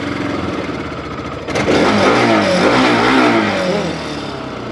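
A second-hand 2017 ABS-model motorcycle engine idles, then catches and revs up with a rising, wavering roar before settling back toward idle, close and loud.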